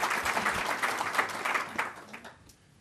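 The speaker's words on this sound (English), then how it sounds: "let's give a round of applause for our legislative delegation" Audience applause for a legislative delegation at a roundtable event, a brisk burst of many hands clapping that quickly fades out.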